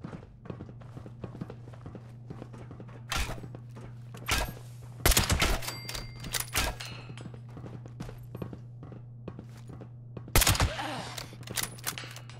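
Gunfire in the video game Fallout 76: several separate bursts of shots and sharp impacts crack out over a steady low game hum, with quieter ticks and thuds scattered between them.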